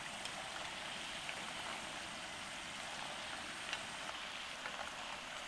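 Jaggery paras, a Punjabi sweet, frying in hot oil, giving a steady, even sizzle that hisses continuously at moderate loudness with no talk over it.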